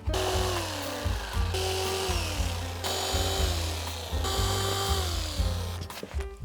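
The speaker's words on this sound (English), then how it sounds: "Okay, jigsaw time. This is one of my oldest tools." An old jigsaw from around 1995 saws through wood for a breaker cabinet, a loud continuous buzzing cut broken into several strokes with brief pauses between passes, close by with no talk.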